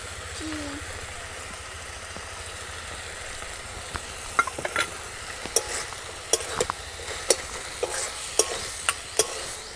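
Cabbage filling with spice mix being stirred dry in a pan, a low soft sizzle under a series of sharp scraping knocks from a spatula that grow more frequent toward the end.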